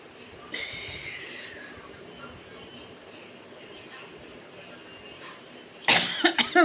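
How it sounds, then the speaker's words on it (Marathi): Coughing erupts near the end, a quick loud burst of several harsh coughs from chili fumes as fish fries, following a stretch of quiet kitchen background. "खोकलाला मध्ये काहीतरी जास्त मिरची टाकून मच्छी फ्राय करते वाटतं"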